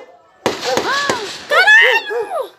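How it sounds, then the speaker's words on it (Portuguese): Several sharp gunshots crack in quick succession, loud and close, on the BR-101 highway in São Gonçalo, Brazil, while people shout excitedly over and between the bangs. "Muito tiro! Os bandidos, cara, tentaram roubar a BM."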